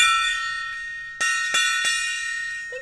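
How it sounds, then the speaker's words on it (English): A metal bell rings with a bright, sustained metallic tone, then is struck three more times in quick succession, each strike renewing the shimmering ring close to the microphone before it slowly fades. "that bell is much more appreciated."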